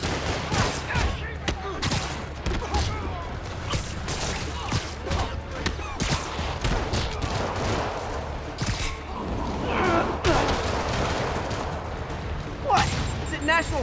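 Rockets launch and burst in Marvel's Spider-Man Remastered, a dense barrage of repeated blasts and rapid gunfire-like cracks running continuously amid combat noise.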